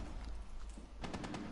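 Gunfire in Rainbow Six Siege comes as a quick burst of several sharp, faint shots near the end, heard over a low background hum.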